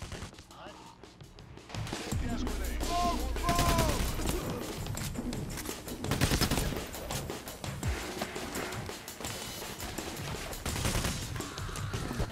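Sniper gunfire in Payday: The Heist, with repeated sharp shots and bursts over a dense, noisy game mix, while a voice speaks intermittently over the action.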